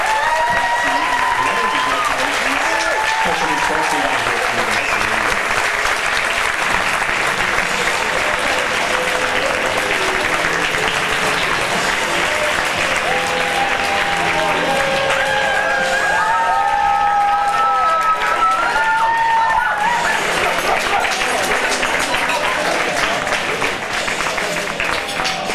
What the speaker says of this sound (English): Get a big round of applause for our newest governors.